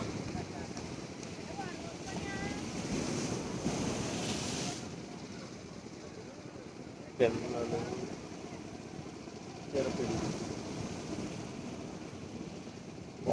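Steady surf of the sea at Uppada with broadband wind noise, swells rising and falling, and a couple of sharper splashes; faint voices murmur in the background.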